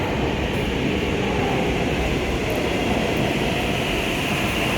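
A train pulls into a station with a continuous broad rumbling roar, steady and fairly loud throughout, with no voices over it.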